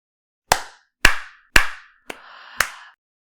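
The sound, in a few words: enthusiastic hand clapping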